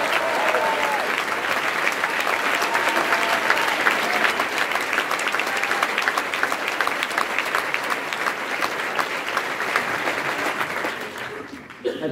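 Thunderous applause from a large audience at an anniversary celebration, sustained dense clapping at full strength for about eleven seconds with faint crowd voices beneath, tapering off briefly at the very end.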